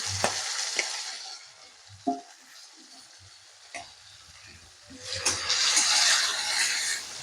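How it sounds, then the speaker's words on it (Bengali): Tomatoes hitting hot oil in a pan for paneer malai curry, a steady sizzle with soft stirring scrapes, swelling into a louder, brighter frying hiss near the end. "টমেটোটা দিয়ে দেবো"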